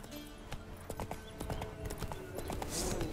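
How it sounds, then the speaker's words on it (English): A horse's hooves clip-clop in a quick, steady galloping rhythm in The Witcher 3, fairly close, with a brief whinny-like sound near the end. "Run, Roach."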